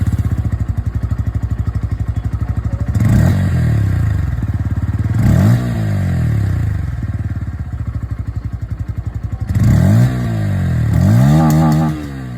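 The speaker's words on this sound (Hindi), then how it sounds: "तो ये दोस्तों आप लोगों ने यहाँ पर N150 की जो आवाज़ है वो आप लोगों ने यहाँ पर सुन ली है।" Bajaj Pulsar N150 motorcycle exhaust, single-cylinder, idling with a steady close thump, then blipped into several sharp revs that rise and fall, alone without talk.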